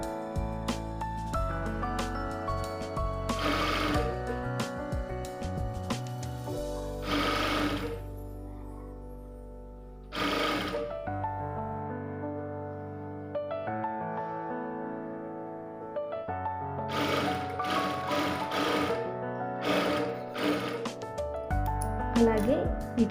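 A sewing machine runs in long stretches while stitching a lined blouse, its motor whirring close and loud, pausing briefly between seams, with someone talking over it.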